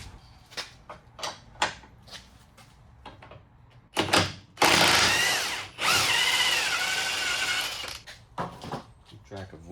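A power tool undoing a 19mm lower control arm nut on a Hyundai Santa Fe, two loud close whirring bursts of a few seconds each, with clanks and metallic knocks before and after.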